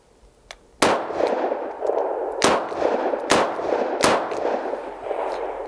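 Four sharp, loud shots ring out from an S333 Thunderstruck double-barrel revolver in quick, slightly uneven succession, each crack followed by a short ringing tail, with no talking.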